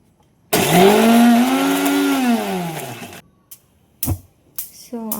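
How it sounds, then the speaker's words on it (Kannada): A kitchen mixer grinder whirs loudly through washed spinach leaves, a steady motor drone that rises and then slows for about three seconds before cutting off, followed by a few short clunks and handling knocks. "ಮೊದಲು ಪಾಲಕ್ ಸೊಪ್ಪನ್ನು ಚೆನ್ನಾಗಿ ತೊಳೆದುಕೊಂಡು ಮಿಕ್ಸಿಗೆ ಹಾಕಿ ರುಬ್ಕೊಳ್ಳೋಣ"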